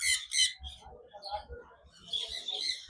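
A breeder pair of sun conures lets out shrill, loud squawks close by, a quick double burst at first, then scattered calls and a longer harsh squawking stretch, with faint voices in the background.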